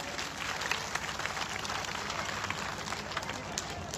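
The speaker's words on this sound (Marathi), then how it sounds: "म्हणून प्रथम आपण बकरे मामासाठी एक टाळ्या वाजवायला पाहिजे सर्वांनी." Steady applause from a rally crowd for a campaigning election candidate, dense continuous clapping at moderate level with scattered sharper claps, heard somewhat distant.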